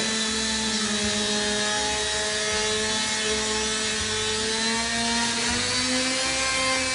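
A rotary tool cuts a slow, counterclockwise curved shape through a wooden board along a template, giving a steady high-pitched whine with a continuous motor hum and faint grinding that holds evenly from start to finish.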